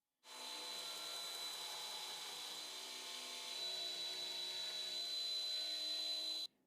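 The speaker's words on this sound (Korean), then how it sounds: "다시 그라인더로 돌아가서 이쪽으로 밀어줘야 해요" A grinder runs steadily as it shapes a Damascus steel dagger blade, giving a continuous whirring hiss with a high whine, then cuts off abruptly.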